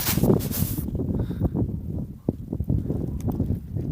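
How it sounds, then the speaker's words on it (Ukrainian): Strong wind buffets the microphone in loud, rumbling gusts in an orchard of peach trees, with a rushing hiss at the start that drops away into low, uneven blustering. "почав дуть сильний вітер"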